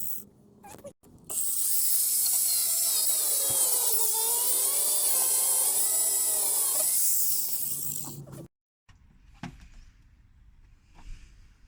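Power tool bolting up a custom rear diffuser on a time attack Vauxhall Vectra project car, a loud continuous whirring run of about seven seconds, then brief clicks and handling noises.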